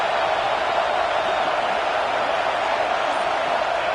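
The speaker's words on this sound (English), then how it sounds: "Listen to the crowd energy here in the early going." A stadium crowd roars steadily through the early going of a football game, a dense and continuous wall of cheering in a tough environment for visiting teams.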